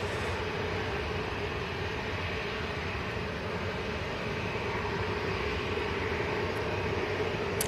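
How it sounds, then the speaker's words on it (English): A Ryanair Boeing 737-800 with split scimitar winglets touches down at Manchester Airport, a steady broadband engine and airframe roar holding evenly throughout at moderate distance, with no talk over it. "Ryanair, 737-800 with the split scimitars touching down"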